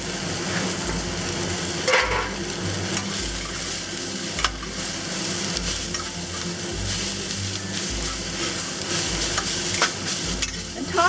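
Bok choy being stir-fried in a wok for egg roll filling, a steady loud sizzle with repeated scraping and tossing strokes of the spatula throughout, no talking.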